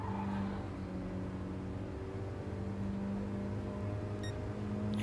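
Mini Cooper race cars circling Willow Springs raceway, a steady droning engine hum with faint revving tones, distant and continuous with no voices.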